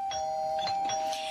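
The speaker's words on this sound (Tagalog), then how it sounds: "Ito, meron doorbell." A house doorbell rings with a steady electronic tone that holds for over a second while soft chime notes sound on top of it. No one speaks.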